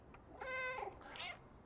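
A cat meows in the video game Stray, a single clear, drawn-out two-part call heard close and alone over faint background.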